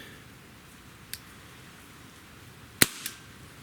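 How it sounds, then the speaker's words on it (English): A Walther CP88 CO2 air pistol fires a 5.25 grain match pellet, one sharp, loud crack close by. A small click comes before the shot and a brief rattle follows it in a quiet room. "let's shoot 5 shots in this, we'll average it out."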